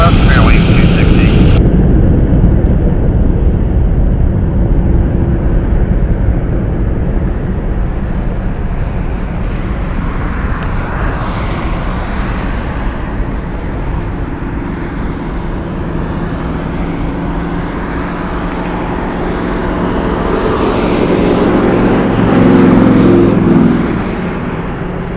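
An airliner departing from a runway at Las Vegas Harry Reid International Airport roars steadily with a broad, heavy jet rumble that swells slightly near the end, loud and continuous throughout.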